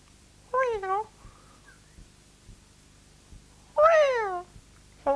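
A voice imitates a cat, giving two drawn-out meows with warbling pitch separated by a pause, close and clear against soft tapping in a quiet room.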